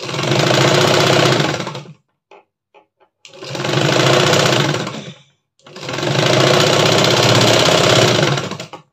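A sewing machine stitches a blouse seam in three long continuous runs of steady, loud, close whirring, each lasting a couple of seconds and separated by short pauses with faint clicks.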